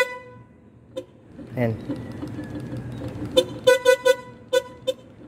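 A malfunctioning horn on a Yamaha R15 V2 motorcycle beeps in a series of short honks, several rapid toots near the end, close and loud, following a brief mechanical clunk.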